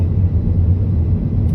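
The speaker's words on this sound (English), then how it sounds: "I'm actually driving this right now with the studded tires" Steady low rumble of road and tire noise inside a 2008 Skoda Superb driving on studded tires, continuous and even, with no talking.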